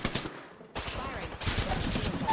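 Gunfire in Apex Legends comes as rapid automatic bursts of loud, close shots. A brief pause in the fire is followed by more sustained rattling volleys.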